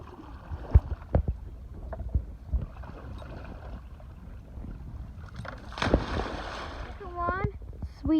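Kayak paddle forward strokes dip and splash in water at an irregular pace, with wind noise and a person speaking nearby.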